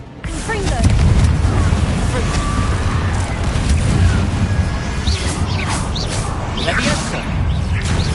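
A Confringo fire spell cast in a Harry Potter video game bursts into a loud explosive boom with whooshing debris and crashing impacts, rolling on for several seconds, up close and heavy.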